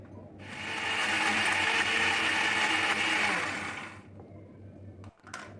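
A mixer grinder grinding green chilli, curry leaves and ginger whirs loudly for about three and a half seconds, then shuts off and leaves a quiet hum and a couple of clicks.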